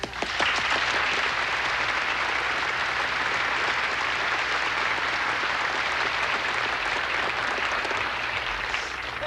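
A large audience at a televised all-star tribute party applauds in a dense, sustained wash of clapping that holds steady throughout.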